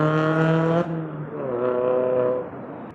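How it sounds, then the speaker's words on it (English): A motor vehicle squeezing through traffic along Spanish Town Road, its engine droning close by with a steady tonal whine that dips and rises as it moves past. "Look at this vehicle squeezing through."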